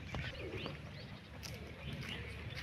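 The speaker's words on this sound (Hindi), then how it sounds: "एक कबूतर" A pigeon coos softly a few times along the Narmada parikrama pilgrimage route, against a faint outdoor background, the low calls fairly quiet and close.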